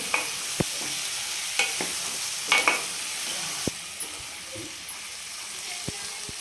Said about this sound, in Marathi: आपण बटाटे टाकणार आहेत उकडून फोडी करून घेतलेल्या आहेत त्या मिक्स करून घ्यायचं चांगलं